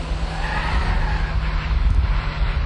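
A Lotus Elise pushed hard through a corner, its tires squealing loudly and continuously under a steady engine roar.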